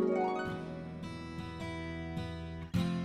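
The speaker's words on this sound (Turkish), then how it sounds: "Arpın sesi böyle çıkar." A pedal harp with 47 strings is plucked by hand, with a bright, ringing attack that fades slowly, then fresh plucked notes about every half second and a firmer pluck near the end.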